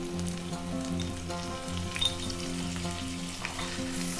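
Mint, coriander and turmeric powder sauté in a pan with bajji chili for cauliflower rice, giving a steady close sizzle and frying crackle with a few light stirring scrapes and no voices.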